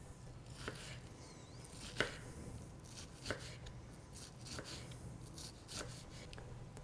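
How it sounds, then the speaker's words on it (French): A knife cuts pancetta into cubes on a cutting board for penne carbonara, a few soft, irregular taps and chops heard close but quiet. "Je taille en cubes."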